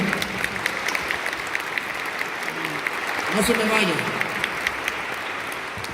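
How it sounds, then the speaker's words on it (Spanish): A congregation applauds at a church service, steady clapping of many hands held at a moderate level while someone speaks over it. "un fuerte aplauso pues para el hermano"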